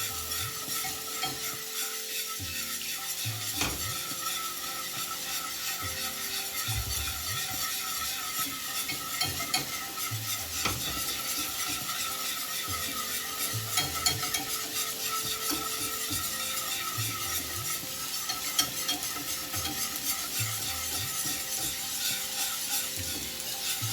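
A spoon stirs macadamia nut milk into a bechamel sauce in a pan with the heat off, giving a continuous soft scraping and swishing with a few sharper clicks, close and alone.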